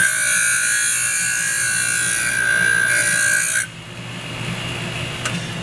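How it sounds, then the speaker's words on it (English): A power ring filer grinds a piston ring with a steady high-pitched electric whine and rasping hiss for several seconds, then stops abruptly, leaving a quieter hum. "I'm going to grind 3 thousandths off this ring"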